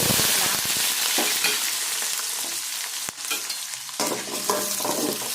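Sliced onions sauté loudly in hot oil with fenugreek seeds for a seafood fish curry, a dense crackling sizzle broken by repeated stirring scrapes and one sharp knock against the pan.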